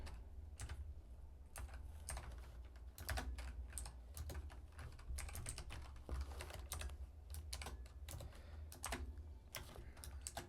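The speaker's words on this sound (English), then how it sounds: "Sorry if my keyboard's loud." A noisy computer keyboard clacks under steady, fast typing nearby, each keystroke sharp and distinct in an uneven rhythm, with no voices.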